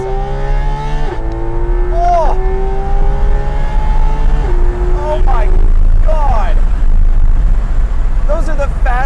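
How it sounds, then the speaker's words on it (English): A Porsche 911 GT3 RS engine climbs steadily under hard acceleration, its pitch dropping abruptly at each rapid PDK upshift, heard loud from inside the car with a voice speaking over it. "Those are the fastest shifts I have ever heard in my life."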